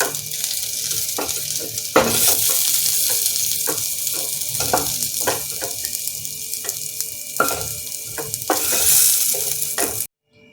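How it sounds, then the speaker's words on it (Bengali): Papaya and potato pieces frying in a home kitchen pan give a steady, close sizzle, broken by repeated clinks and scrapes of stirring throughout, then cutting off abruptly at the end. "এবার এটা ভালো করে ভেজে নেব"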